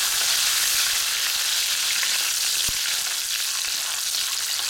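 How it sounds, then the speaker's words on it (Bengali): Chopped coriander stalks fry in a pan for Schezwan chicken, giving a steady, loud, broadband sizzle that holds throughout with no talking. "সেটা দিয়েও একটু ফ্রাই করে নিচ্ছি।"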